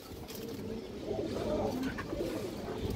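A pigeon coos softly and close by, making a few low throaty murmurs that rise slightly midway through the short stretch, over faint background noise.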